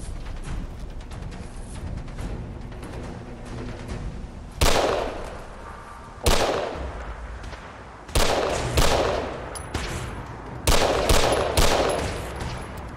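Submachine gun fire in the video game Fallout 4: about six loud, sharp bursts arrive at irregular intervals of one to two seconds. Each burst trails off over a steady rumbling background.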